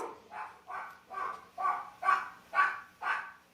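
Puppies bark in a quick series of about seven short, evenly spaced yips and woofs, close to the microphone and fairly clear, with no talking over them.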